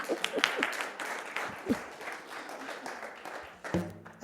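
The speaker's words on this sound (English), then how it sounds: "Oh, yes, please applaud." Applause from a congregation at a Unity Sunday church service, a soft scattered patter of clapping at moderate distance that swells and fades over a few seconds, with brief voices mixed in.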